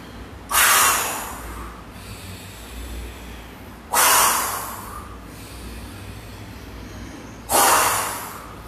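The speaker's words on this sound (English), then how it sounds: "breathe in, deep, and breathe out. 5 times." Three deep breaths during a yoga session, each a long, loud exhale of rushing air that fades out, spaced about three seconds apart with quiet pauses between.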